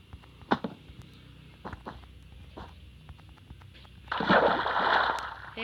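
A Minecraft character drops into water in the Sonic-themed world: scattered soft thuds and taps give way to a loud, rushing splash and bubbling that lasts over a second, close by.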